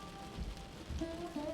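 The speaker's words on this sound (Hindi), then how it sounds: "बारिश अभी भी नहीं रुकी।" Cartoon rain falls steadily as a soft, even hiss with low rumbling underneath, while faint tonal music lines run through it; no one speaks.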